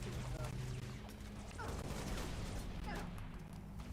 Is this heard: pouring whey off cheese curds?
no